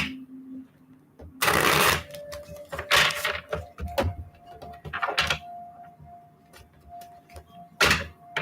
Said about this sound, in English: I have to shuffle these cards in a weird way, like I said, because they are so thick